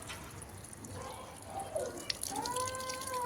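Rooftop garden plants being watered, with soft splashing and trickling water, light drips and a thin rising pour near the end, fairly quiet and close.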